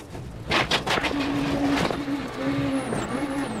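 A Ford Fiesta rally car crashes on a Monte-Carlo Rally stage: a loud engine roar with bursts of impact and scraping, then a droning motor and a thin high whine continuing afterward.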